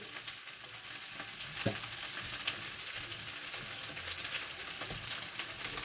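Perilla oil sizzles and spits in a frying pan, a steady, close crackle with a couple of light stirring knocks and no voices.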